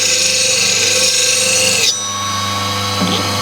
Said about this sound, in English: now we can just flip round and just sharpen each side